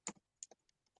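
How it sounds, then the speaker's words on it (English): Fingers tap a computer keyboard in a handful of crisp, close clicks with uneven gaps between keystrokes, set against a quiet room. "Y'all hear me typing"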